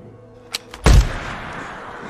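A single loud, close gunshot as Ellie shoots a deer in The Last of Us, preceded by two faint clicks, then a sharp blast with a trailing echo.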